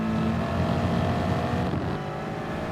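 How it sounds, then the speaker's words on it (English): A race car in the game Gran Turismo Sport runs off the track into the gravel, its steady engine drone mixed with a rough, gritty rumble of tyres on stones, continuous and fairly loud. "Here he is here going off into the gravel"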